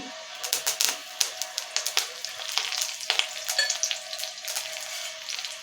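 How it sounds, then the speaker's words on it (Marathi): Curry leaves dropped into hot oil with golden-browned garlic, sharp rapid crackles and pops like a burst of spattering over a soft sizzle, loud and close, easing toward the end without any talking. "आता याच्यामध्ये चार ते पाच कढीपत्त्याची पानं"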